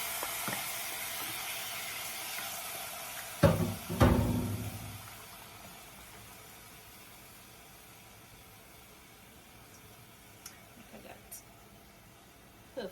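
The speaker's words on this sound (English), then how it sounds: "now I'm going to add the tomatoes into the garlic and the onion." Tomatoes dropped into a pan of frying garlic and onion for Trinidad-style choka, bursting into a loud, close sizzle that flares for a second or two and then settles into a quiet, fading hiss with a few faint clinks.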